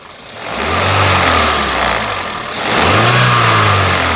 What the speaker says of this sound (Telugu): ఇప్పుడు ఇంజన్ ఆన్లో ఉందండి ఇంజన్ యొక్క నాయిస్ చాలా అంటే చాలా సైలెంట్గా అయితే ఉందండి